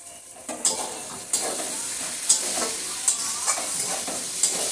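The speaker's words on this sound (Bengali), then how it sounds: "মশলাটা একটু কষে আসলে সয়াবিনটা একসাথে দিয়ে দেবো" Soybean chunks fry with spice masala in a pan, a steady bright sizzle broken by repeated scraping stirs every second or so, close and fairly loud with no voices.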